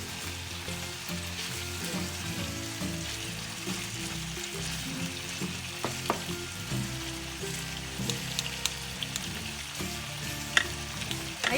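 Chicken stir fry with lemongrass sizzling and frying in a pan, a steady close crackle with occasional louder pops and light stirring, and no talking.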